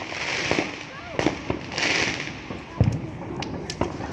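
Fireworks crackle and pop on bonfire night in a steady scatter of sharp bursts and thuds, some loud and close, over a continuous hiss of background crowd noise.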